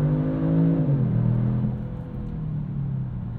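A 2022 Kia Stinger GT sedan with an 8-speed automatic accelerates gently in comfort mode, its engine note rising steadily, then dropping as it shifts and settling into a smooth, continuous hum.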